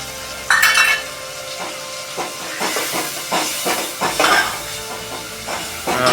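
Curd added to a spiced gravy with garlic and turmeric for a moong dal curry, hissing and steaming loudly in the pan while a spoon stirs with repeated scraping strokes.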